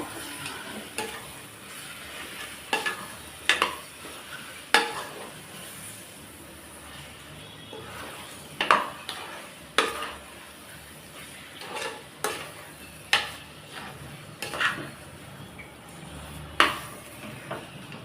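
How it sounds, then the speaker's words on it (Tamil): Chicken is stirred and sautéed with masala in a pan for a chicken kurma. A soft sizzle runs underneath, broken by repeated scraping stirs of a spatula against the pan at irregular intervals, close and clear. "இப்போ மசாலாவோட சிக்கனை ஒரு 2 நிமிஷம் நல்லா வதக்கி விடணுங்க."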